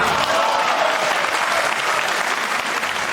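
Fans at a pool match break into sustained applause: dense, steady clapping from a crowd, fairly close and loud, continuing evenly throughout with no pause.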